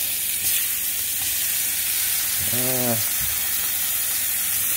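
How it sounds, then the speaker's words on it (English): Ruffed grouse seasoned with garlic and Franks seasoning sizzles in a frying pan, a steady loud hiss of frying that runs the whole time, with a brief tonal squeak midway. "Get that grouse on there sizzling up and let it do its thing"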